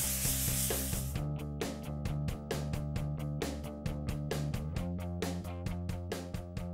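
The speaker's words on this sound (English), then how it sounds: "once this is all sanded, which we're about done" Hand sanding smooths a concrete skimcoat, giving a close, repeated rasping scrape in an even back-and-forth rhythm of short strokes after a brief hiss at the start.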